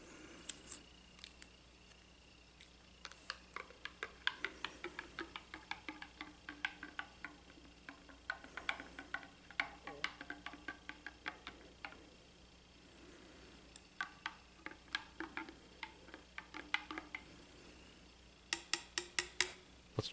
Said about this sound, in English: It comes out a little chunkier than you would expect. Let's give it a stir.